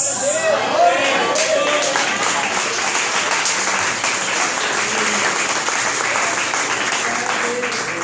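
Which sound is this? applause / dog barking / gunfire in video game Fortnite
applause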